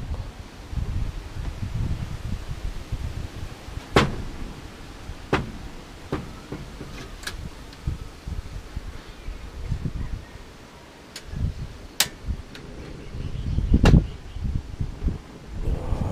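Gusty wind on a cold morning outdoors buffets the microphone in low, uneven rumbles, with occasional sharp clicks and knocks between the gusts.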